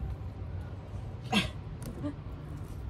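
A single short dog bark or yip, fairly faint and a bit distant, followed by a softer second sound over quiet background noise.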